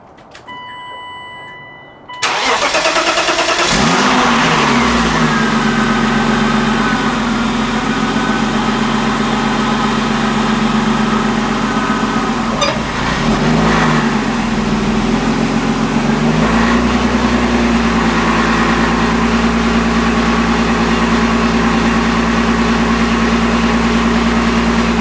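A BMW E36 drift car engine starts up and then idles loudly and close at a steady hum, with a couple of brief revs rising and falling mid-way before settling back to idle.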